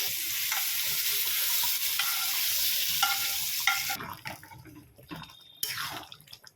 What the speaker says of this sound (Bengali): এবার আর একটু ভাজা হবে, ক্যাপসিকামটা আর একটু ভাজা হলো